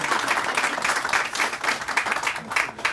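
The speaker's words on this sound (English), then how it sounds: "I think that deserved a round of applause" An audience at a business development announcement in Weirton, West Virginia bursts into steady applause, many hands clapping at once in a dense, continuous wash that carries through the whole moment.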